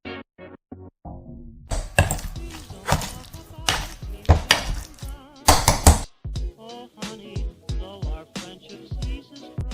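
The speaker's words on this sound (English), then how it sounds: "Now these are ready, so we need to mash them like this" Cooked bananas being mashed in a pot for Ecuadorian emborrajados: a run of sharp, irregular knocks and scrapes of the utensil against the pot, close and fairly loud, with a few quiet clinks between strokes.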